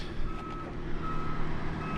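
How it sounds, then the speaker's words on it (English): A dump truck's reversing alarm sounds a steady high beep over a low idling engine rumble while it loads gravel, fairly distant and moderately quiet. "We got a dump truck loading some gravel"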